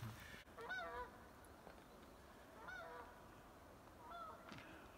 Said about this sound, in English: I've rarely seen geese in the mountains